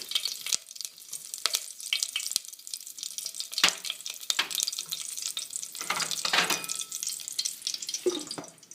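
Fenugreek seeds sizzle in hot oil in a bowl during tempering for a fish curry, a continuous crackling fry with sharper pops and stirring clatters scattered across it, close and moderately loud.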